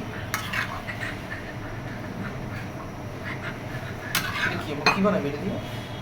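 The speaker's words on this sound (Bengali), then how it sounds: "চিচিঙ্গা, পেঁয়াজ কুচি, কাঁচামরিচ আর ডিম একসাথে দিয়ে তেল দিয়ে আমি বসিয়ে দিচ্ছি" Snake gourd, chopped onion, green chili and egg fry together in oil in a pan, with metal utensil scrapes and clinks over a steady sizzle, and a louder clatter near the end.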